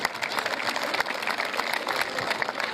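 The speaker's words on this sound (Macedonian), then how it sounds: "Аплауз и за вториот." Applause from an audience at a masquerade ball event in Probištip, welcoming a jury member with steady, moderately faint clapping that continues throughout.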